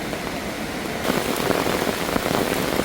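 Heavy rain pours down on a wooded forest trail beside a deep valley in Hadong. A steady hiss of rain swells sharply after a second into a loud, dense downpour.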